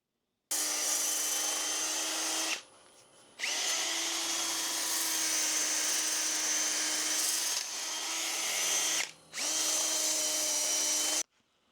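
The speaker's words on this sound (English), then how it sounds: "going to do some sanding up to 320 grit" Cherry wood being sanded on a lathe through the grits up to 320, a steady whining, rushing tone running in three long passes with two brief gaps between them, close and loud, with no voices.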